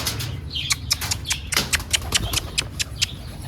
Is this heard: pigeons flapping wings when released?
yes